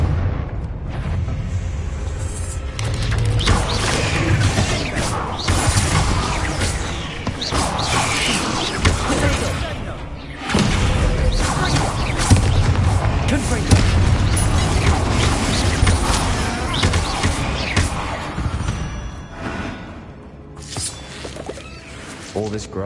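Bombarda and Confringo blast spells going off in the video game Hogwarts Legacy: repeated loud booming bursts and crashes over a busy stream of game sound, with a sharp break near the middle.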